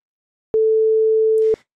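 A pure sine test tone triggered as a Wwise event in Unity sounds once as a steady, clean one-second beep, loud and alone, with a short burst of noise at its end.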